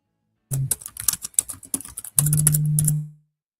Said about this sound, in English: So I was actually typing up my list